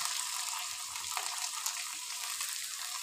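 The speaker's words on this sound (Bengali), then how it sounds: "মশলাগুলো ভালো করে ভেজে নেব" Turmeric, salt and chili paste fry in hot oil with a steady, close sizzle that crackles on without pause for the whole stretch, while a few soft stirring scrapes and small splashes rise out of it.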